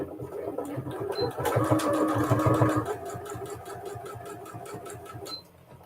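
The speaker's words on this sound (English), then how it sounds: "All right, so I'm going to sew. We're going to back stitch to our mark that we made" A sewing machine back stitches a fat quarter of fabric in quick rapid needle bursts, a denser louder run in the middle, close and without speech.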